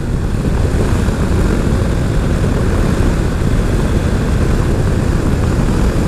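A Honda is ridden through the Savannah National Wildlife Refuge, its engine and the rushing air making a loud, unbroken roar that stays constant throughout with no voices.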